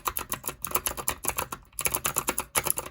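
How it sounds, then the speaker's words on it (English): Fast, steady typing on a clicky tactile mechanical keyboard fitted with white ceramic keycaps, a dense run of crisp, rounded clacks with a brief pause, close and alone. "They still bounce off with the clicky tactile keys, but there's more of a rounded out sound to it, a little thockier."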